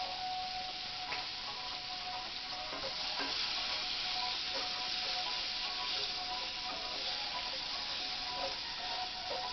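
Seasoned food, salted and dusted with garlic powder, sizzling steadily in a pan as it cooks alongside beef liver, with a continuous crackling hiss and a few sharp pops and ticks.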